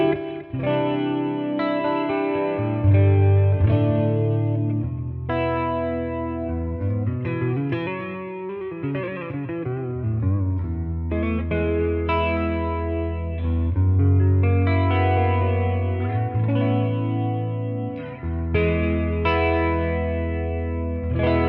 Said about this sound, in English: And this is how it sounds like with delay and chorus.